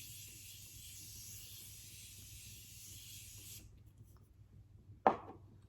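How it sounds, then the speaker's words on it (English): A steady hissing spray of Morphe makeup setting spray runs for a few seconds, then stops, followed by a single sharp tap in the quiet. "We're gonna take the Morphe setting spray."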